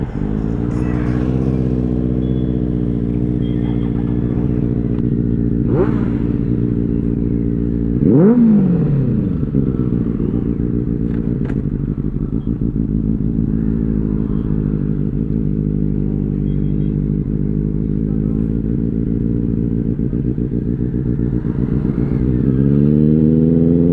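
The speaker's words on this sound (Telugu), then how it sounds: "అసలు కిరాక్ సౌండ్ అది రేస్ ఫిట్ ఎగ్జాస్ట్." A motorcycle fitted with a race-fit exhaust idles with a loud, deep, steady drone and gives one sharp rev partway through, alone and close by.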